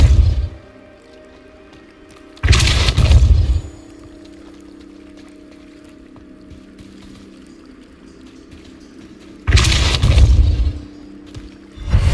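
Depulso force-push spell blasts in the video game Hogwarts Legacy, two loud whooshing bursts about seven seconds apart over a low ambient game hum.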